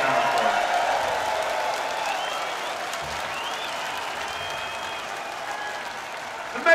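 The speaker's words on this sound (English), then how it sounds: "Everybody give yourself a round of applause for coming out here and sticking out." A large open-air crowd at a metal festival claps and cheers steadily for several seconds, a dense wash of applause with scattered whoops, loud and continuous, fading slightly toward the end.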